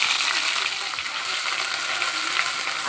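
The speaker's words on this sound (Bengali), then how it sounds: "এই দেখুন আমার তেলটা গরম হয়ে গেছে, জিরে দিয়ে মশলাটা দিয়ে দিচ্ছি" Cumin and spices hitting hot oil in a pan, a loud, dense and steady sizzle with faint stirring throughout and no voices.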